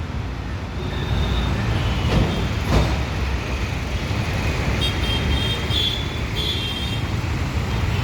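Continuous road traffic on the road to NIMHANS in Bangalore, a dense steady roar of passing vehicles with a couple of faint horn toots in the distance.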